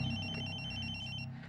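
A mobile phone rings with a bright electronic ringtone, a steady repeating tone heard close up and alone for a moment before it stops.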